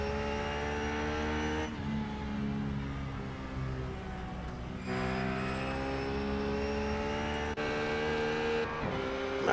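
Race cars on the final lap at Mosport race track, engines roaring with sustained high-pitched whine and gear-shift changes in pitch, loud and continuous as cars pass, no talk.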